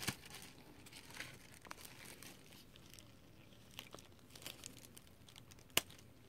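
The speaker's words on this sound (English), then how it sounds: "It's just the wrapping for the artwork that comes in." Plastic wrapping being torn off artwork during a Grand Kingdom Grand Edition unboxing, heard as faint, close crinkling and rustling with a few sharper crackles.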